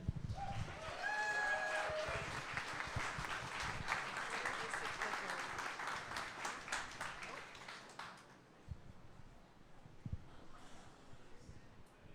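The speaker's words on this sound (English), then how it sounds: "giving a big round of applause to Nori Katabe, Michael Carter, and Navera A" Audience applause at a green building presentation evening, a broad burst of clapping lasting about eight seconds with a few voices and whoops over it, then fading to scattered claps and low room noise.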